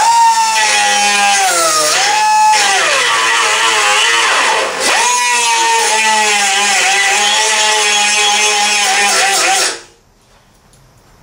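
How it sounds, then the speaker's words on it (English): A die grinder blends welds on a 1979 Trans Am, a loud, close, high whine whose pitch dips briefly under load before cutting off near the end. "My die grinder here."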